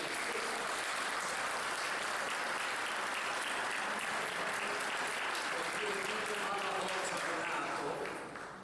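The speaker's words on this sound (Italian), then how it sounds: "Vorrei per Gianni un applauso" An audience at a retirement celebration in Italy gives sustained, dense applause for several seconds, heard fairly faint with indistinct voices underneath, tapering off at the end.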